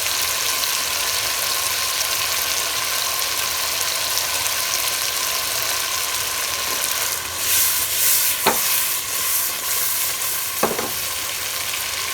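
Hilsa fish pieces frying in a pan of simmering curry for ilish polao, a steady broadband sizzle running throughout with a couple of brief sharp clinks or spatters near the end, no voices.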